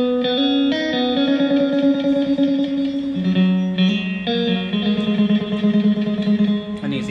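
Electric guitar run through a Pod HD 500X with reverb, a Fender American Standard, playing sustained chords and notes with a wash of ambient tail, steady and close with no talking.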